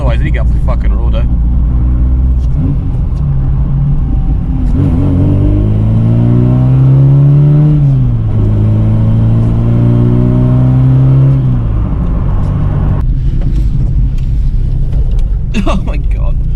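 A 1986 Ford Capri with a 2.0 Pinto engine accelerates on the road, its engine note rising and falling through gears with a strong low rumble, recorded from inside the car as someone talks over it.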